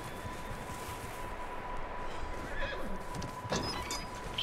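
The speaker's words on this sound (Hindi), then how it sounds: "है घोड़ा है।" In the Red Dead Redemption 2 video game, a horse gives a snowy-world whinny over soft hoof clops and wind, moderately loud and close, with a brief sharp sound near the end.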